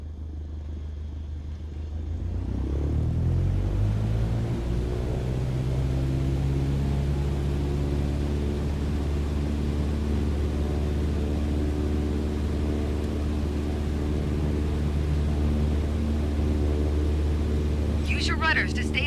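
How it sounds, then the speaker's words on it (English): A light aircraft engine in Microsoft Flight Simulator spools up from near silence to full takeoff power, its drone climbing in pitch over the first few seconds and then holding a loud, steady roar, with a voice talking over it. "Apply full power and I'll walk you through the takeoff as we go."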